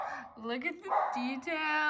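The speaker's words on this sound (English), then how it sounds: "You can hear my dog barking in the background." A dog barks and yips in short bursts, fairly close, while someone talks over it.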